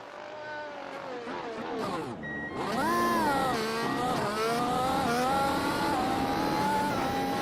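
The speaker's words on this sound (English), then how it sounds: "I love the sound of this car though." A high-revving Formula 1 race car engine screams past on track, pitch dropping and then climbing again through gear changes, loud and continuous.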